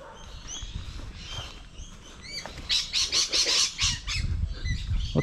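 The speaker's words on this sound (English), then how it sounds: "Lots of birds in this yard." Several birds in a suburban yard squawk and chirp at close range, with a run of harsh rhythmic squawks in the middle over a low outdoor rumble.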